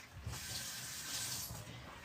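Tap water runs steadily for about two seconds as a dropped spoon is rinsed at a kitchen sink, a continuous broad splashing hiss with slight swells, no voices over it.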